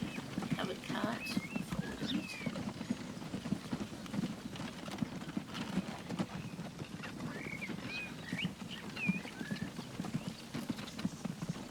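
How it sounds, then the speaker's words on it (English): Horse-drawn covered carts in the video game Transport Fever 2 clip-clop continuously, a quiet, steady patter of hooves with occasional faint whinnies and ambient game sounds. "We're still using these beautiful little horse-drawn carts that I love so much, the covered wagons, covered carts."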